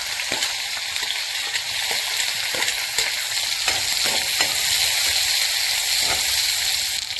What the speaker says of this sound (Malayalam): എണ്ണ ചൂടായിട്ടുണ്ട് നമുക്ക് ഇഞ്ചിയും വെളുത്തുള്ളിയും പച്ചമുളകും ആദ്യം ചേർത്ത് കൊടുക്കാം